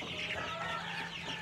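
Month-old chicks hatched in March cluck and peep together in a close, busy flock, overlapping chirps and soft clucks without pause.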